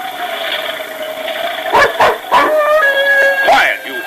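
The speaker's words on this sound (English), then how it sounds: "Quiet, you fool dog. Shut up." A dog lets out a few sharp, close barks and yips in a short cluster over a steady background hum.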